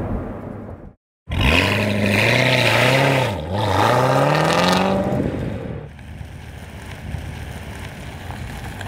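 A Chevrolet Corvette Z06 engine roars loudly under hard acceleration, climbing through the revs with a shift and a second pull before easing off to a lower drone of road noise.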